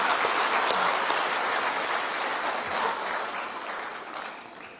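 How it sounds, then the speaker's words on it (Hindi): An audience claps steadily in dense, sustained applause honouring women at an event, holding throughout and slowly tapering toward the end. "आइए इन सभी प्रेरणादायी महिलाओं के सम्मान में जोरदार तालियां से उनका स्वागत करें"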